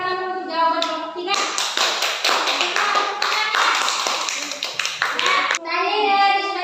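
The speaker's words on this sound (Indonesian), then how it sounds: "tepuk tangan dulu untuk jawaban kelompok 3" Students in a classroom burst into rapid, loud clapping for a group's answer, several seconds of dense close applause framed by children's voices talking before and after.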